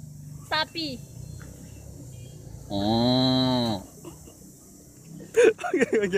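A voice imitates a cow with one sustained, nasal moo lasting about a second, framed by brief spoken bits before and after, on stage at an animal-imitation performance.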